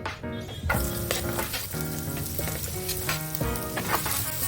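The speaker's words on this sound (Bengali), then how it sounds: "তেলটা গরম হতেই আমি এর মধ্যে দিয়ে দিচ্ছি পেঁয়াজ" Loud, steady sizzling of chopped onions frying in hot oil in a kadai, close up, with occasional stirring scrapes and crackles.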